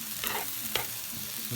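An omelette with mackerel fries in a pan, a soft sizzle broken by a couple of sharp scraping stirs, with no talk.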